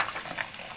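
Pieces of local chicken meat hit a hot pan for a home-style chicken curry, giving a soft, steady frying sizzle with light stirring scrapes, close by and fairly quiet, with no talking.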